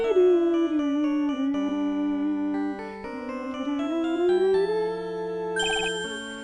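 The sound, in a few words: phone ringtone ringing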